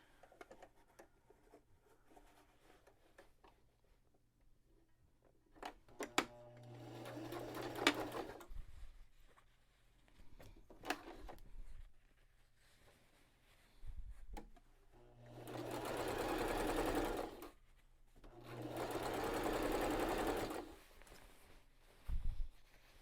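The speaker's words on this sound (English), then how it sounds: "I'm going to start sewing at the bottom of the shirt since I have to hem it or sew it up anyway." A sewing machine stitches the hem of a button-up shirt in several bursts, short runs early then two long steady whirring passes, with quiet handling noises and pauses between.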